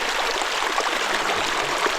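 Running water splashes steadily, as if from a stream or tap while someone washes their face, a continuous close broadband wash with small splashes and no talk.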